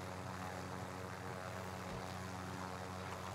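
Steady helicopter rotor and engine drone in the online shooter Warzone, a constant loud broadband roar with a low hum, filling the whole moment without speech.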